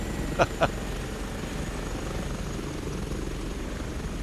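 An H145 helicopter in Microsoft Flight Simulator drones as a steady, fairly faint rotor and engine hum, with two brief sharp blips near the start.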